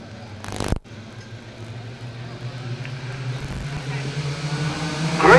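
Racing karts at the start of a 20-lap final at the 1996 Australian CIK Championships in Ipswich, engines droning steadily and building louder toward the end after a brief burst of noise near the start.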